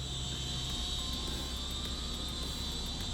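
A Syma S100 micro RC helicopter with 2.4 GHz control lifts off on auto takeoff indoors, giving a steady high-pitched whirring rotor and motor whine, close and constant throughout.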